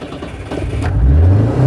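A classic Citroen GSA engine catches on a hot start with the throttle floored and revs up, a loud close mid-pitched roar that climbs in pitch.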